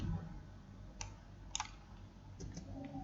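Computer mouse clicks while building a frame model in STAAD Pro structural design software: a few sharp, quiet clicks spaced apart, some in quick pairs, over low background hum.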